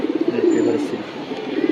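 A tournament racing pigeon coos softly and steadily while being held in the hand, its low rolling murmur continuing close by throughout.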